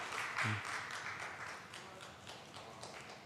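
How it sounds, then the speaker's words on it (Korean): Congregation applauding a Christmas baptism in a church, a soft spread of clapping from many hands that fades gradually, heard faint and at a distance. "우리 축하의 박수 집에서도 영상으로 드린 분도 다 박수해 주세요"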